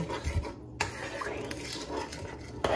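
A utensil scrapes and clinks against a pot while kikiam sauce of soy sauce, sugar, cornstarch, pepper and salt thickens, with soft close stirring rubs and a few sharp knocks.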